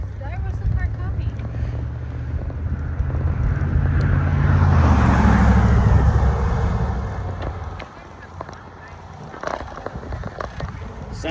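A car passing on a road near a bay trail, its engine and tire noise swelling to a loud peak midway then fading, with wind buffeting and people talking under it.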